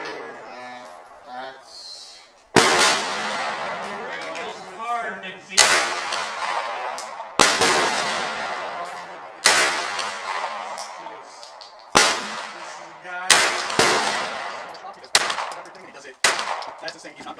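A Bear Creek Arsenal BC-9 pistol caliber carbine fired at a range, about eight sharp loud shots spaced a second or two apart, each with a ringing decay, with faint voices in the gaps.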